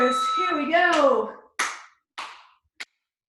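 During a leg scissors core exercise, an instructor's voice gives way to three sharp hand claps, spaced about half a second apart, each ringing briefly before fading into silence.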